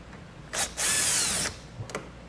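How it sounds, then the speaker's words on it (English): A power drill fitted with a T30 Torx bit backs out a fastener from a 2022 Jeep wheel well, a short burst followed by a longer steady whir of about a second, with brief clicks before and after, close and fairly quiet. "We're going to use a T30 Torx to remove this."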